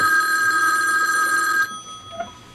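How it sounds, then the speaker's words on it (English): A telephone bell rings indoors in a home, one sustained ring that cuts off partway through, followed by quiet room sound and a faint thump. "the phone rings, goes to answer it"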